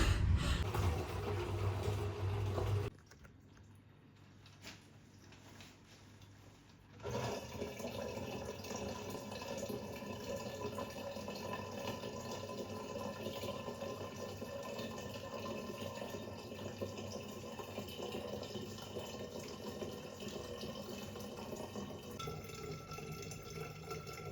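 Tap water runs steadily into bottles at home, a continuous close hiss and splash that starts after a brief quieter pause and holds at an even level to the end.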